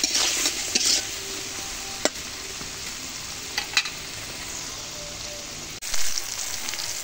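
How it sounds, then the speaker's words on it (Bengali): Eggplant pieces fry in hot oil as a steady hiss and crackle close by, with a few soft scrapes and taps of a spatula and no talk. "এখন আগে বেগুনগুলো ভেজে নেব।"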